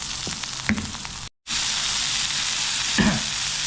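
Kashmiri chili masala sizzles steadily in hot oil in a pan for fish pollichathu, with a few scraping stirs, a brief dropout, then continuous frying hiss close by with no talk.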